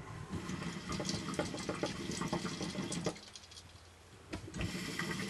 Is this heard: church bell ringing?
no